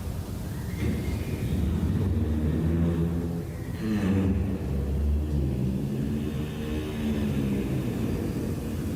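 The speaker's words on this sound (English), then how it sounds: "this is nocturnal giraffe humming." A recording of a giraffe humming at night carries a low droning hum with wavering tones over a constant deep rumble, continuing without a break throughout.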